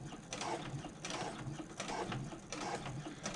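A sewing machine topstitches a handbag, joining its liner and exterior. It runs in a steady, quiet mechanical rhythm of repeated ticking, about two cycles per second, throughout, with no talk.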